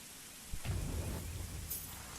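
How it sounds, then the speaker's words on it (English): Rain and thunder in the driving video game The Crew, a steady hiss of falling rain with a low thunder rumble rolling in after a half-second and fading, faint overall, with no talk. "The fact that it's raining here is not gonna help us,"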